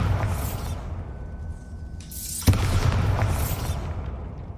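Explosive blasts from Confringo and Bombarda spells in a wizarding video game, set against a rumbling background, with a sharp loud burst midway followed by sustained crackling debris noise.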